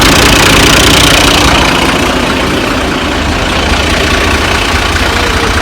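A tractor engine runs close and loud, a steady low rumbling drone with a rough knocking texture, as a stuck trolley is freed from a muddy pothole.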